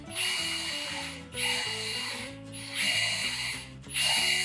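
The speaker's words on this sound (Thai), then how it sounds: "เวลาเจาะเหล็กนะครับ ก็ต้องใจเย็นๆนะครับ เริ่มต้นด้วยดอกเล็กๆก่อนนะครับ" A drill bores a hole in steel for a kitchen light fixture, its motor whining steadily with a ratcheting, grinding texture that pauses briefly between passes, loud and close with no talking.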